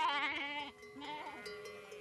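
Goats bleat in a mountain pasture, one strong, near, quavering bleat opening the moment, followed by fainter overlapping bleats from the herd farther off, with no talk.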